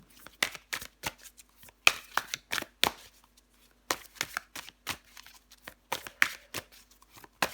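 Tarot cards are handled and drawn from a deck, giving crisp, close flicks and shuffling snaps in irregular bursts with short quiet gaps.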